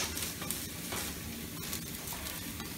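A grill on fire sizzles and crackles in a steady, close hiss, dotted with small pops and snaps, and no voices are heard over it.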